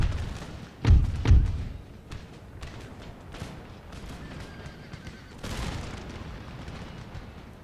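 Musket volley fire in Empire Total War, set in the Carolinas, with two heavy booming thumps in quick succession near the start and another rolling burst of gunfire later, over a low continuous battlefield rumble.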